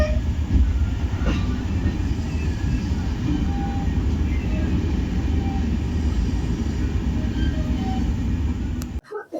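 Steady rumble and clatter of a Humsafar Express train running after leaving Solapur, heard from inside the coach as continuous loud wheel and rail noise, cutting off abruptly at the end.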